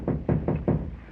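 Four firm knocks on a wooden door in an old 1929 mystery film, evenly spaced and fairly close, with no talk over them.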